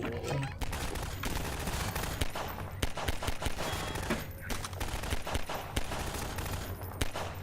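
Rapid automatic weapon fire in the Half-Life 2 combat game, a dense continuous fusillade of sharp shots and bursts lasting throughout, loud and close with no talk over it.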